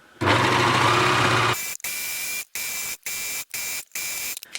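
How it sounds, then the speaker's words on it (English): An overlocker serging fabric, first a long continuous high-speed whirring run, then a series of short even bursts of stitching separated by brief pauses, close and loud. "I'm going to redo this overlocking that I did on my brother"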